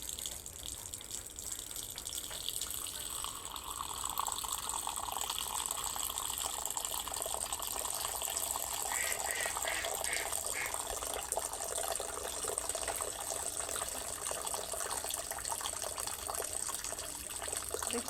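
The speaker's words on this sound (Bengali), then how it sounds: "দইয়ের পাতিলে দুধটা, এই যে দেখেন জাল করা দুধটা উপর থেকে ঢেলে দিব আর ফেনা হবে" Boiled milk poured from a height into a curd pot, a steady continuous gush of liquid with foaming, close and fairly loud throughout.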